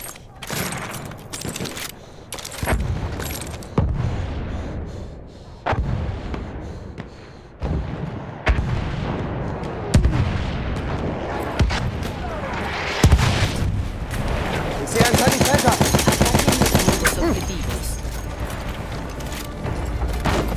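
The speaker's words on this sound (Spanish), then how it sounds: "Esperen a que el bombardeo de artillería enemiga termine" Enemy artillery pounds in Battlefield 1 Assault mode, many heavy blasts and rumbling booms landing over twenty seconds amid bursts of gunfire and a rattling machine gun near the end.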